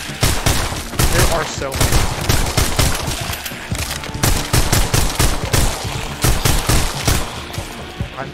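Continuous gunfire in the Arizona Sunshine VR zombie game, loud rapid bursts of shots repeating for several seconds with brief gaps, while a player talks over the shooting.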